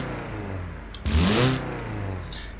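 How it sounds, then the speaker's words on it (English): Diesel four-cylinder engine in the BeamNG driving game revving while driving, a steady low drone that surges into a brief loud rev burst in the middle, then settles back, with no talking. "you can tell it has that proper diesel sound"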